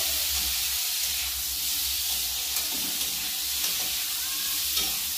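Chopped tomato goes into a watermelon rind curry in a pan on a gas stove, with a soft steady sizzle and hiss and faint spoon stirring clicks, quiet and continuous without talking.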